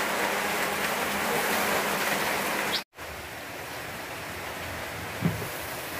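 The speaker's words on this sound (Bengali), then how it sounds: "বৃষ্টিও নেমে গেছে" Rain falls steadily outside during cooking of hilsa fish with taro, a continuous broadband hiss that briefly cuts out near the middle, with a faint clunk near the end.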